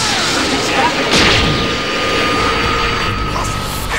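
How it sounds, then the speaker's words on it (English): An explosion in the video game Dragon Ball Xenoverse 2 rumbles loud and sustained, with a broad roaring wash that swells near the middle and holds steady to the end. "What was that explosion?"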